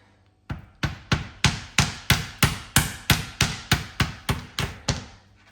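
Thirteen sharp, evenly spaced thuds of the flat side of a meat mallet pounding chicken on a board, loud and close, about two blows per second with no talking.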